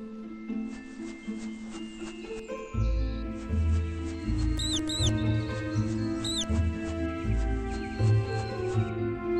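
High mouse squeaks in an animated film, a few quick paired chirps over a sustained musical score that grows fuller partway through.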